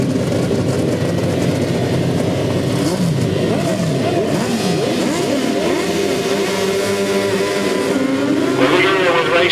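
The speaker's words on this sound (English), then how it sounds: "Race number 7, the third heat of the 1000cc sidecars. They go up the back straight." 1000cc racing sidecars scream up the back straight during a heat, several engines revving and whining past in overlapping sweeps, loud and sustained.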